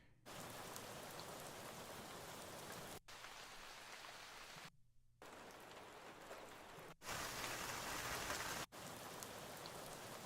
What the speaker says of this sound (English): Just search up rain. I know I just grabbed a few more rain samples that are probably in here somewhere.